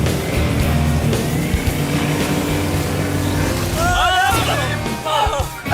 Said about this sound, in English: they're doing donuts in the water.